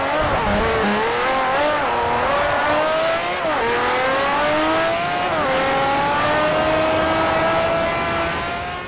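Race car engine screaming through gear changes, with rising revs dropping at each upshift and tire squeal underneath, in the Forza Motorsport 4 racing video game; loud, continuous and close, with no talking.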